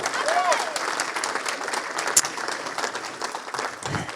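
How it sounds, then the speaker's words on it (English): Church congregation at Riverside Church Whitstable gives a sustained round of applause, dense and steady clapping that fills the room for about four seconds at moderate loudness. "Give her a huge round of applause."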